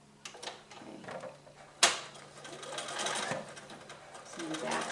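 A domestic sewing machine stitches fusible binding onto a small quilt, running in short whirring bursts and a brief back-stitch, with a sharp click partway through while someone talks over it.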